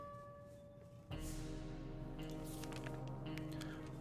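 Water gulped by a character in the survival game 60 Seconds! Reatomized: a watery sound effect begins just after one second and continues steadily to the end over the game's sustained music.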